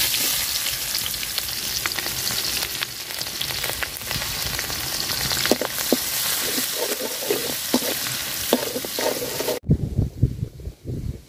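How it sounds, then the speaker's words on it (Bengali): Chopped onion and green chilli sizzle loudly in hot leftover fish-frying oil, with a steady crackling hiss and occasional stirring scrapes; the sizzle drops sharply near the end, leaving quieter bubbling. "মাছ ভাজার তেলে আমি পেঁয়াজ আর মরিচ কুচি দিয়ে দিলাম"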